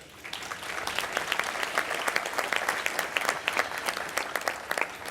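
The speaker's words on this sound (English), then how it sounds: "and for that we applaud you." At the 2017 NOMA Conference Gala, an audience gives steady, sustained applause, many hands clapping together at an even density, moderately loud and lasting throughout.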